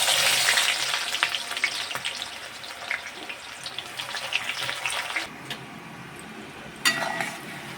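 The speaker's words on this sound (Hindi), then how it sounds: "अभी डालती हूँ काटी हुई प्याज" Chopped onions fry in a pan with cumin, dried chilli, cardamom, cloves and cinnamon for a Kolkata-style mutton curry, giving a steady close sizzle with occasional stirring scrapes and clinks.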